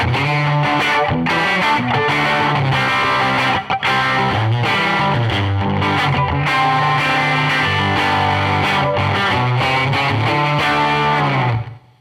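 Distorted electric guitar through a heavier-gain amp plugin, continuous chords and riffs played loud and saturated for the whole stretch.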